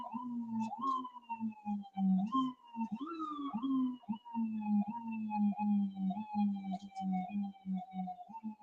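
A wailing siren rises and falls in repeated sweeping cycles, steady and fairly clear, with no talk over it.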